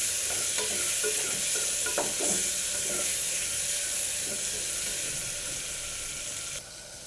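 Vegetables for khichdi, with mint and coriander, scraped and stirred together in a hot pan, giving a steady, close frying sizzle with irregular spoon clatters throughout and no talk.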